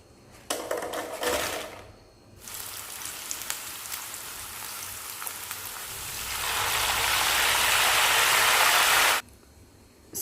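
Banana chips fry in hot oil, giving close, loud, rain-like sizzling: a short crackly burst, a brief dip, then a long, steady, intensifying hiss that cuts off near the end.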